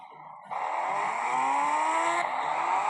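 A motorbike in the Indian Bike Driving 3D video game starts up and skids, making a steady synthetic engine whine that climbs in pitch over about two and a half seconds. It carries a faint tire squeal and no voices.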